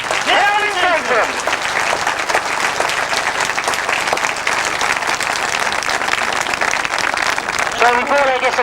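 Sustained crowd applause for the 1999 British Masters Grasstrack champions at the trackside presentation, steady and loud for the whole stretch, with a voice speaking briefly at the start and again near the end.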